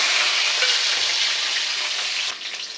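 Garlic sizzles steadily in hot oil in a pan while a small bulb is added for a hotel-style paneer gravy, a dense continuous frying hiss that dips briefly near the end.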